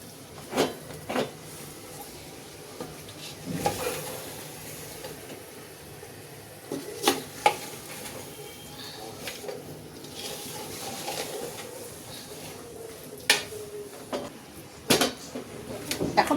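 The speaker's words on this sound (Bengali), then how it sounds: "এখন মাংসটাকে আমি কষাতে থাকবো" Beef pieces, over 3.5 kg, frying in spice masala in a pot for Bengali beef bhuna, stirred with metal clatter and scraping at irregular intervals over a steady low cooking hiss.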